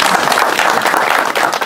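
An audience at an angling league event gives a burst of applause, dense and steady clapping at close range that fills the short moment on its own.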